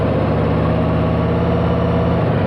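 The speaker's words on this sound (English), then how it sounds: "I want you to get used to listening to your engine" A motorcycle engine idles at low RPM, a steady, close, even low throb that holds for a few seconds with no talk.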